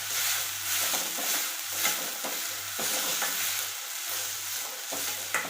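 Onion, tomato and garlic paste frying and sizzling steadily in a pan, a loud continuous hiss broken by repeated stirring scrapes, with no talk.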